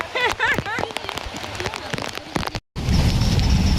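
Rain falls steadily with dense pattering, first under a person talking, then a brief cut and continuous heavy rain noise alone.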